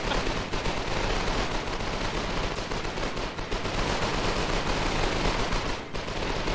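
Dense, continuous SMG gunfire in the Foxhole video game, rapid overlapping bursts forming an unbroken loud barrage during a competitive league match, no speech.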